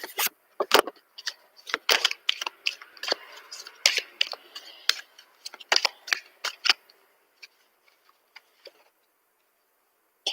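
Tarot cards are shuffled by hand, producing quick, crisp flicking and slapping bursts in irregular clusters that thin out to a few isolated taps toward the end.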